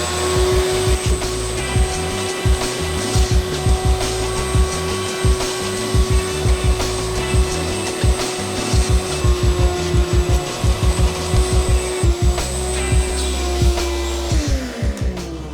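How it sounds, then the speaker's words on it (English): Carpet-cleaning vacuum motor running steadily and loudly with a constant whine, overlaid by rapid rhythmic clicking or thumping pulses throughout, before the motor tone drops and winds down near the end. "So let's get the vacuum started"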